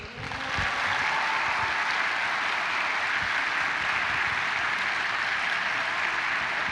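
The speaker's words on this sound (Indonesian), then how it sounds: "kita berikan aplaus yang paling meriah untuk Jonathan dan Patrick." A studio audience at an Indonesian television talk show breaks into loud, sustained applause that swells quickly and holds steady with no talking.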